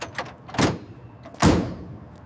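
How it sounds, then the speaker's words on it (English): Two heavy door closings at an industrial biryani plant, each a sharp near thud with a short rumbling tail, the second louder, preceded by small latching clicks. "Doors secured."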